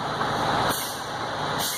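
A heavy truck engine runs steadily to rebuild air brake pressure during an air system test, giving a loud, continuous broadband rumble with a brief shift in hiss partway through.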